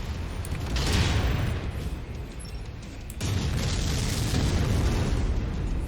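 Missile explosions in the MechWarrior 5 video game roll in as two loud, rumbling blasts, one after the other, each followed by a sustained roar of debris.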